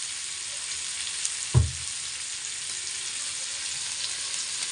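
Potatoes and tomato fry in a pan with a continuous, even sizzle, broken once by a short knock as a utensil stirs them.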